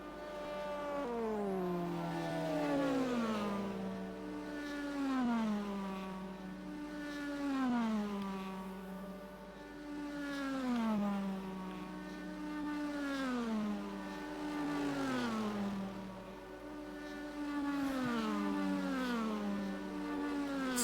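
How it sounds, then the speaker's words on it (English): An LMP3 prototype race car in rFactor, at an ELMS endurance race at Sao Paulo, whines through repeated rising and falling engine sweeps as it enters the pits, steady and moderately loud with no talk. "that's the LMP3 leader coming into the pits behind us"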